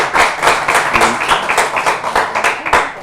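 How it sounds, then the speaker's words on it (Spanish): Hands clap in loose rhythm from a modest seminar audience, close and fairly loud, individual claps standing out in an uneven burst of applause. "vamos a darle un fuerte aplauso otra vez."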